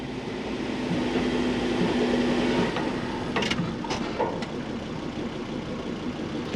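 A car hauler truck's diesel engine rumbles steadily nearby, loud and continuous, with a few sharp mechanical clanks partway through.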